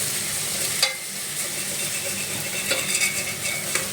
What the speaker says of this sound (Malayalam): ഇഞ്ചി വെളുത്തുള്ളി പച്ചമുളക് ചതച്ചിട്ടു